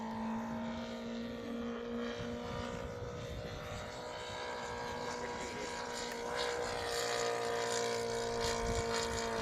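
A very large RC airplane makes a wheel landing and touch and go, its propeller engine droning steadily with a sustained tone that swells louder toward the end as it powers back up.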